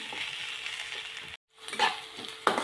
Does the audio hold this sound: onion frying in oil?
yes